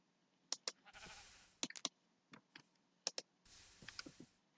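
Sheep bleating inside a modded video game, several short bleats scattered through the clip alongside sharp clicks and two longer bursts of broadband noise.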